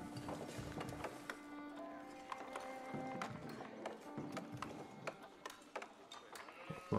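Sheep bleat in the Age of Empires IV strategy game among busy game sound effects with clicks and clip-clop hooves, moderately faint and continuous.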